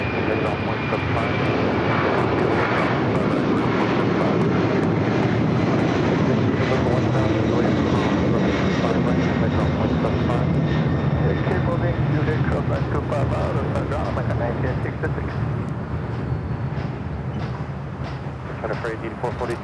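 A heavy jet airliner takes off at LAX, its engines roaring in a loud broad rumble that holds for about twenty seconds and slowly eases as it climbs away.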